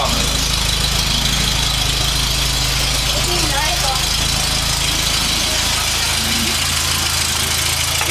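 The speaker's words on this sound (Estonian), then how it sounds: "Tühikäigu mootor." Engine idling close by, a loud steady low mechanical drone with a faint knocking vibration running the whole time, while people talk over it.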